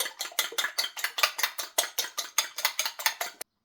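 Two eggs beaten in a bowl for a zucchini byrek filling, a steady, rapid rhythm of fork or whisk strikes, about five per second, close and loud, stopping abruptly near the end with no talking.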